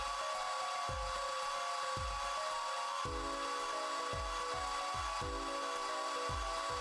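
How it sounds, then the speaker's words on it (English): An in-game hair dryer in Apollo Justice: Ace Attorney whirs steadily while drying plaster, with a repeated series of soft thumping clicks pulsing under the continuous airflow. "Suspend your disbelief about the hairdryer."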